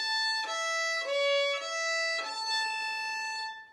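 A fiddle plays a short phrase of the Oriole Hornpipe, a few clear bowed notes with bright harmonics ending back on the A, close and solo with no talking.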